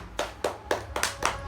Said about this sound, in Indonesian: mari kita sambut dan beri tepuk tangan yang meriah untuk dua pendekar hukum kita